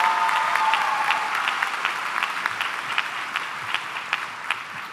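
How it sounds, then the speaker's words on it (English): A round of audience applause at a Northwest High School commencement ceremony, dense and sustained clapping from a large crowd, fairly close and loud, easing slightly over its length. "Can I give another round of applause to Peter for his amazing speech?"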